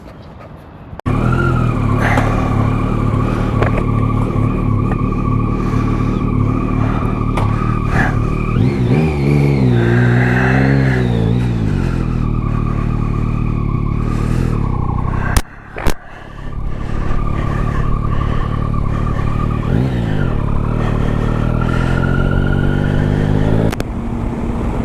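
A loaded touring motorcycle pulls away and rides off, its engine note climbing through rising gear sweeps, then holds a steady cruising drone with wind rush; a couple of sharp knocks interrupt midway.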